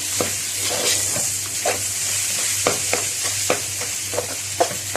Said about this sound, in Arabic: هنشوح اللحمه مع التوابل بتاعتنا في الاول